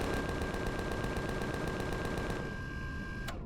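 Rapid, evenly spaced gunfire from weapons shooting at cannon drones in the space survival game Empyrion Galactic Survival, a loud steady burst for over two seconds that stops abruptly, followed by a single sharp shot near the end.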